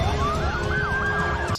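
Several police car sirens wail loudly together, rising and falling in overlapping sweeps as patrol cars converge from different routes, ending abruptly.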